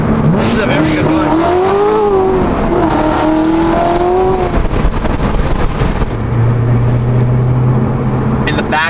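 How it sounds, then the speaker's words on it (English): A Corvette fitted with headers and a stock exhaust roars loud and near, revving up and down in rising, falling sweeps before settling to a lower drone, with people talking over it. "this car sounds crazy with a stock exhaust"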